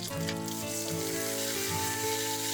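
Thin bacon slices fry in a pan with a steady, close crackling sizzle that runs without pause, with faint tonal background hum and no talking.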